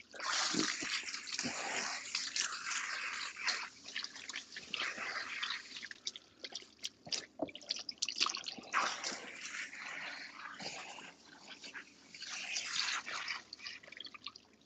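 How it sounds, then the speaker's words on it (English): Water splashes and drips steadily as relaxer is rinsed out of hair at a salon shampoo bowl, a close, continuous irregular patter and spray with no talking. "whenever you rinse a relaxer off"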